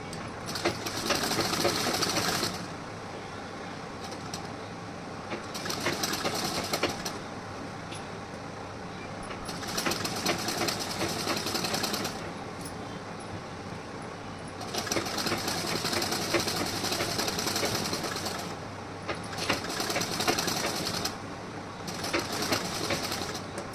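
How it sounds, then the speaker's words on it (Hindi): Sewing machine stitching a double seam on a blouse, running in several steady whirring bursts of a few seconds each with short pauses between, close and even, no talking. "अब यहाँ पे मैं डबल सिलाई लगाऊंगी।"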